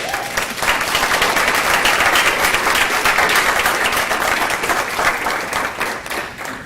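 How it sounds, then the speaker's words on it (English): Applause from an audience at a school board meeting, a dense, steady wash of many hands clapping that holds loud for several seconds before easing slightly at the end. "I think that deserves a round of applause."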